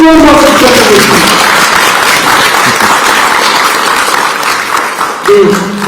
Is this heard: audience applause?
yes